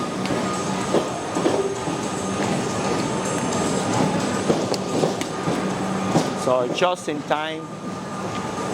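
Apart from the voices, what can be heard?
train arriving at a Melbourne station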